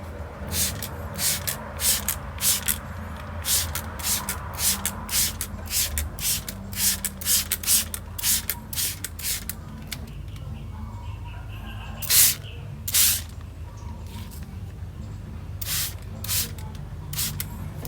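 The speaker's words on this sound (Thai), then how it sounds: "ฉีดน้ำสบู่ของเรานะครับ ที่บริเวณด้านหลัง" Soapy water sprayed from a hand spray bottle onto the back of a vinyl cut-out sticker for glass: a long run of quick, sharp spritzes at a steady rhythm, close and clear, then a pause and a few more bursts.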